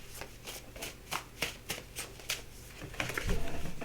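A deck of tarot cards being shuffled up close, a quick run of crisp riffling flicks in regular bursts, faint and alone, ending in a louder shuffle.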